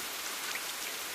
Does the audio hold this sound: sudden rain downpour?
yes